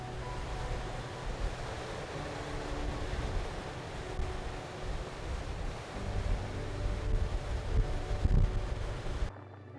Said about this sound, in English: Even from the shore, the size and power of the waves were incredible to watch.